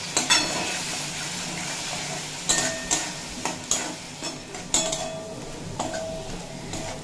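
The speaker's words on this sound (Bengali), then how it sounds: "পরিমাণ মতো হলুদের গুঁড়ো আর সামান্য পরিমাণে কাশ্মীরি রেড চিলি পাউডার দিয়ে খুব ভালোভাবে কষিয়ে নেব" Potatoes and spices with turmeric and Kashmiri chili powder sautéing in a pan for a pumpkin curry, a soft steady sizzle broken by repeated scrapes and clinks of a stirring utensil against the pan.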